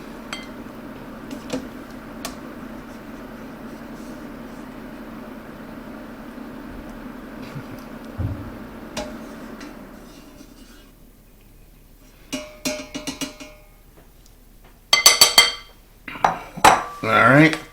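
Boiled octopus lifted from its pot into a bowl: a quiet simmering hiss fades out, followed by a few sharp clinks and clatters of utensils against cookware up close.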